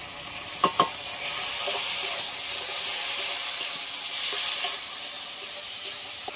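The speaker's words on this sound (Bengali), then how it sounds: "মশলাটা ভালো করে কষিয়ে দিয়েছি।" Spices with turmeric and ginger paste sautéing in oil for a fish curry with plantain and potato, a continuous close sizzle and hiss with a couple of sharp utensil knocks near the start and soft stirring scrapes.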